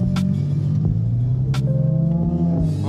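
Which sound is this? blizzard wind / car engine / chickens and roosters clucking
car engine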